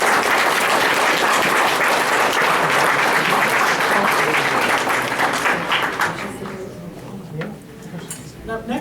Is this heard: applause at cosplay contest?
yes